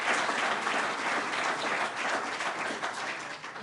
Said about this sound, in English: So please let us give a round of applause.